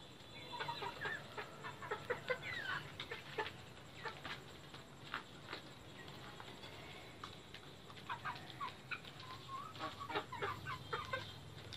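Farm chickens clucking and murmuring close by as they peck at dragon fruit, steady busy clucks with bursts of louder calls, no talking.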